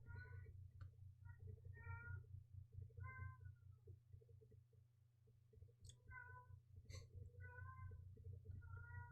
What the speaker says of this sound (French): Il dit beaucoup, ce chat.